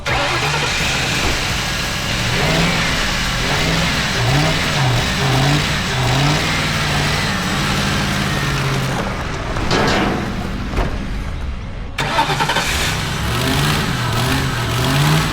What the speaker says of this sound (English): I'm just gonna try and get it running long enough so we can drive it over to the shop